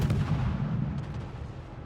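Ship guns fire shells in the naval game World of Warships, one heavy booming shot with a deep rumble that fades out over a couple of seconds.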